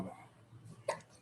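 A single sharp hiccup, short and faint, breaks through a quiet room just before a pause in speech.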